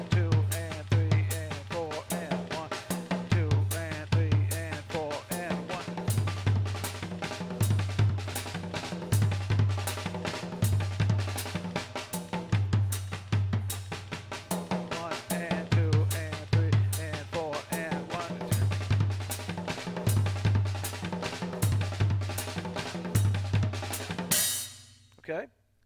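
A drum kit plays a steady double-stroke pattern for about 25 seconds, with kick and snare pulsing under busy, rolling strokes moving around the drums and cymbals. It is close and loud, and a crash rings out at the end.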